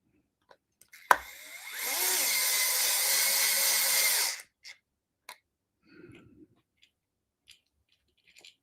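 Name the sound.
DeWalt gyro driver changing bits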